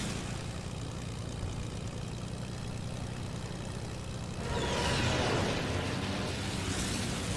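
A steady, droning aircraft engine from the Fortnite video game, running continuously and swelling louder and rougher partway through, with no talk over it.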